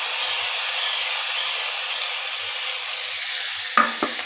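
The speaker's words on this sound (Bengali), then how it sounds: "এইবার ভালো করে মশলাটাকে একটুখানি নাড়াচাড়া করে ভেজে নেব।" Spices, tomato and ginger sizzle steadily in hot oil, a dense close hiss, with a couple of sharp spatula scrapes as the mix is stirred near the end.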